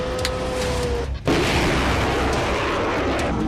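A battery of MLRS multiple rocket launchers fires during an army artillery drill: a tonal hum gives way to a sudden loud roaring blast that keeps rushing and thundering without letup.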